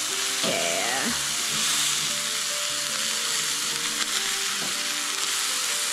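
Sausages frying and searing in a pan, a loud, continuous close-up sizzle with faint background voices.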